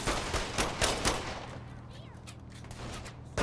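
Gunfire in Saints Row: The Third Remastered, a quick burst of several close shots in the first second and a half, fading into quieter game ambience under low background noise.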